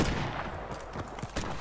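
MP5 submachine gun fire in Call of Duty 4 Modern Warfare multiplayer on the Vacant map, several short rapid bursts of shots over game ambience, moderately loud.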